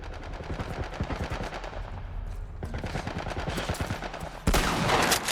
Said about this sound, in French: Il nous tire dessus avec quoi? Un genre de tourelle militaire!